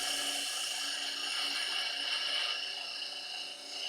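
Steady, continuous whine of a half-inch spindle gouge taking a light cut on laburnum turning at about 1400 RPM on a lathe, close and fairly loud with no voices, easing slightly toward the end.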